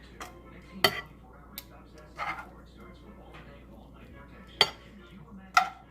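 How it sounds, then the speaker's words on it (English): Spinach and mushrooms are set onto a plate with a few sharp, scattered clinks of a utensil against the dish, fairly quiet and close, with soft talking in between. "I'm going to start by plating my spinach and mushrooms in the middle of the plate"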